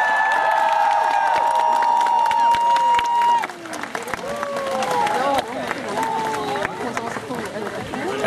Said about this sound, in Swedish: En varm applåd för vår eld-Pokémon!